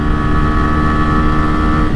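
A TVS Raider 125 and a Hero Glamour Xtec 125 run flat out in a drag race, their engines a loud, continuous buzzing roar mixed with wind rush, steady and close throughout.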